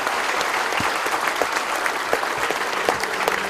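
Audience applause for Dr. Shiva at a speaking session on an Infosys campus in Chennai, a loud, dense, continuous wash of clapping from a large crowd with no talk.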